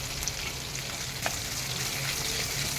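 Onion and dry red chillies fry in hot oil in a pan. A steady, dense sizzle holds close and even throughout, with a faint stirring scrape partway through.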